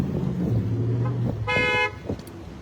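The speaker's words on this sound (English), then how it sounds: "We got all kinds of people honking, man." Car horns honk in heavy traffic at West Alabama and Sage near the Galleria in Houston. A steady road rumble runs underneath, with a long, loud horn blast in the middle and fainter toots around it.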